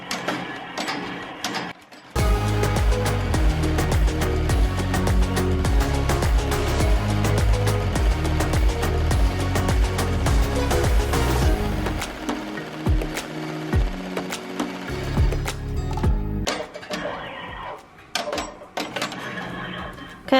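An embroidery machine sews a tack down stitch for a personalized heat-transfer-vinyl shirt, its needle hammering in a loud fast rhythmic chatter for about ten seconds, then slowing into intermittent short runs and stops.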